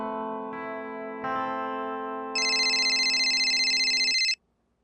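A telephone ringtone plays loud and alone in an indoor household, a steady electronic tone that steps up through rising pitches before cutting off sharply.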